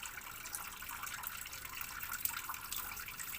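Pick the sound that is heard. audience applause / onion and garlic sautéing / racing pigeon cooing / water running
water running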